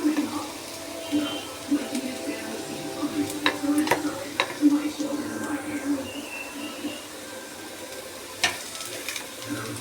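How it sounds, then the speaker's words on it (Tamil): Sliced onions fry in oil until golden, a moderate sizzle with a few sharp utensil taps and clinks against the pan, steady background crackle throughout. "வெங்காயம் நல்லா பொன்னிறமானதுக்கப்புறம் நல்லா வேகட்டும்."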